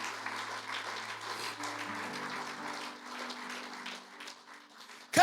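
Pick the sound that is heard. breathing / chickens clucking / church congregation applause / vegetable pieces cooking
church congregation applause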